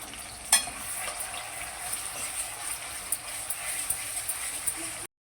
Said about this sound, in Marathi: आता ते आपण वाटण यामध्ये टाकून घेऊया आणि तोपर्यंत परतून घेऊया